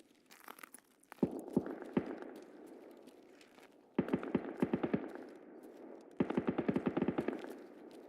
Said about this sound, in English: Oh, he's on the machine gun.